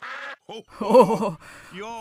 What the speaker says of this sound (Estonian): Pardid, öelge Otsu issile aitäh.